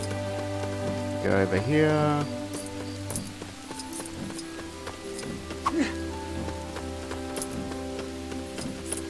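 Rain in the LEGO Lord of the Rings video game, a steady hiss of falling drops under game music and effects, with someone talking briefly over it.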